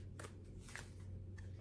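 Tarot cards shuffled by hand during a reading, three short riffling bursts over a steady low hum, fairly quiet and close.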